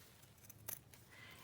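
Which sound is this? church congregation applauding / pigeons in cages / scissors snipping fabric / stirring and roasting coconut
scissors snipping fabric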